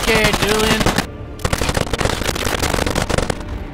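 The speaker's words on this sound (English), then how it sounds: "You shot a friendly, Julian." Loud, rapid gunfire rattles through a video game shooter in dense automatic bursts, with a brief gap before the firing resumes close and harsh.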